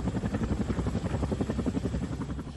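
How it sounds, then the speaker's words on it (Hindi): An Army Chinook helicopter carrying construction material to Kedarnath gives off a fast, steady thudding of rotor blades, a loud, rhythmic pulse close by, with no voices. "ऐसे में सबसे बड़ा रोल निभा रहा है सेना का चिनूक हेलीकॉप्टर"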